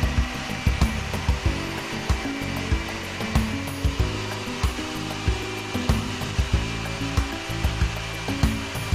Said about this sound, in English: Just tilt the Sprinter and press the simple controls, one for washing and one for drying.